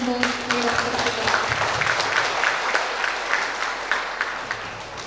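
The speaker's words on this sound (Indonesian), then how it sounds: "Kita berikan aplaus untuk direktur kita." An audience claps steadily for the directors at a formal cooperation signing ceremony, a continuous, even wash of applause with crisp individual claps throughout, no voices over it.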